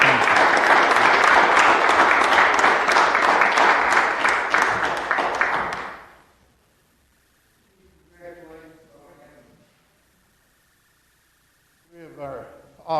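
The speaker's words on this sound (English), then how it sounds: "if we could give these folks a big round of applause" Audience applause at a city council meeting, loud sustained clapping for about six seconds before fading out, followed by a pause and then someone talking.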